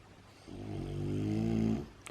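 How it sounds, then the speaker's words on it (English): A dog snores once with its eyes open, a single long, low, rumbling breath close by and steady, then it fades into quiet room tone. "Does anybody else's dog snore with their eyes open?"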